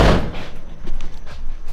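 A car door on a Chevy 1500 pickup with a first-gen Cummins swap slams shut with a sharp, loud thud at the start, followed by softer knocks and rustling nearby.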